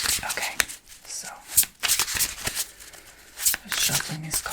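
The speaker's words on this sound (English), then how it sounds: "shuffling these cards" A deck of tarot cards is shuffled close up in quick, crisp riffling bursts separated by brief pauses, while a soft voice murmurs faintly underneath.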